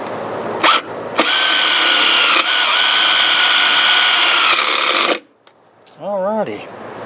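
A repaired walk-behind lawn mower engine runs loud and steady for about four seconds after a brief starting burst, then cuts off, leaving a short silence before a faint warbling tone near the end.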